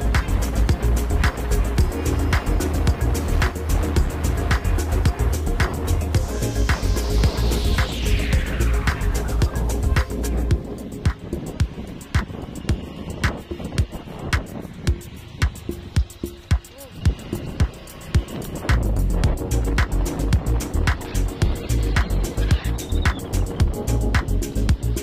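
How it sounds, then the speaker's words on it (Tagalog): Motorcycle engine ridden around a cemetery in Kabankalan City, Negros Occidental, a steady close engine drone that drops away midway, then returns, with a voice talking over it. "ikutin natin habang nakamotor tayo"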